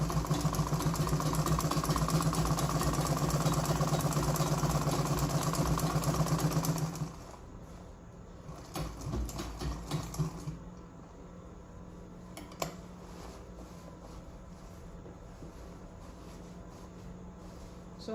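A sewing machine stitches down a seam on a button-down strap dress with pockets. A loud, steady mechanical hum runs for about seven seconds, then drops to a quieter background with a few small clatters.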